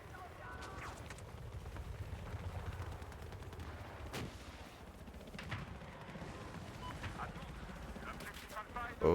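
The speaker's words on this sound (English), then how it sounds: "Oh, snipers. I don't like snipers." Scattered sniper shots crack amid ongoing battle noise in Battlefield 4 multiplayer, with a few sharper reports standing out and a final louder hit at the end. Someone talks over the gunfire.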